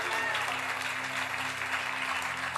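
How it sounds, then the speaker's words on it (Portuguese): Congregation in a church service applauding together, a steady dense wash of clapping filling the space at constant loudness, with low sustained organ or keyboard tones underneath. "E se você crê, aplauda Jesus por isso."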